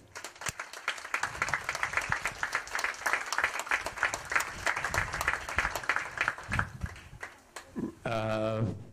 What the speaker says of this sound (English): I would like to get a round of applause for Yus Rudiked and Isamang Bandari